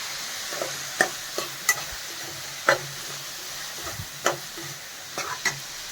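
Leftover chapati cut into noodles and seasoned with salt fries in a pan with a soft sizzle, as a spatula stirs and scrapes in irregular clacks close by.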